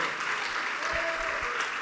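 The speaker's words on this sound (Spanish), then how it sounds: "démosle fuerte las palmas al Señor" A church congregation claps loudly for the Lord, a brief dense burst of applause from many hands that sounds close and sustained with no pause.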